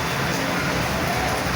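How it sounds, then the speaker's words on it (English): Heavy rain pours down steadily, a dense, loud, continuous hiss with no breaks. "Raining heavily."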